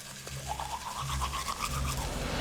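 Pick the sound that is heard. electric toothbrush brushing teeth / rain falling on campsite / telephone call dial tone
electric toothbrush brushing teeth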